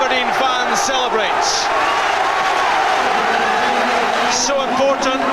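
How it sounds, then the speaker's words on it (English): Aberdeen football fans roar and cheer in a stadium after an equalising goal in a 1997 Scottish League Cup semi-final against Dundee United, a sustained dense crowd noise under steady commentary. "the Aberdeen fans celebrate"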